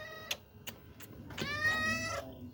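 A kitten meows once, high and drawn out, after a few soft clicks and taps in a quiet room, close by and fairly faint.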